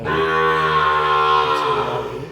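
A young bull calf lets out a single long, loud, close moo that slowly falls in pitch.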